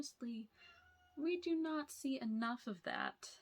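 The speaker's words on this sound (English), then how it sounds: "If you can hear meowing in the background" A house cat meows repeatedly in the background, faint drawn-out cries mixed under and between a person talking close to the microphone.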